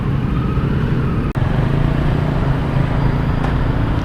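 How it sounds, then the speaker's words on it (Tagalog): Steady, loud road traffic of cars and other vehicles queuing to enter a school, a continuous close rumble of engines with a brief dropout midway and no talk. "Habol-habol na, nagpa-traffic na yung sasakyan na papasok sa school."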